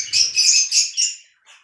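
A flock of budgerigars chirps in quick, bright bursts, four close overlapping calls followed by a fainter one, loud and near with no talk.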